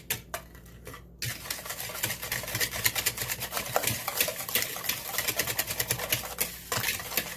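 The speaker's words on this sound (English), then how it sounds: "So I'm just going to continue to mix it." Homemade mint chocolate chip ice cream base being mixed in a bowl, a fast rhythmic clatter of utensil against container that starts after a short pause and continues steadily, close and fairly loud.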